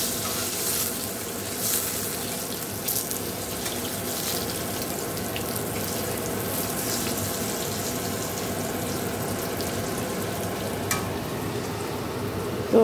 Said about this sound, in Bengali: এদিকে দেখো কড়াইতে এখন 4টে আলু ভাজা হচ্ছে